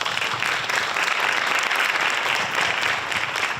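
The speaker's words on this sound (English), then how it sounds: "Another round of applause, please." An audience at a Women's History Month panel event gives sustained, dense applause, steady and even throughout with no break.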